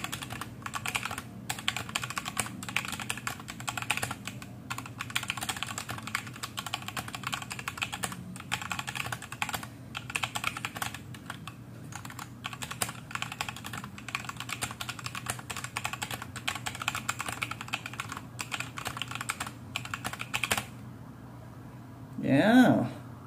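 Rapid, continuous clicking of keys on an E-YOOSO Z11 60% hot-swappable mechanical keyboard, close and crisp with an irregular typing rhythm, ending in a brief pause and a soft thump.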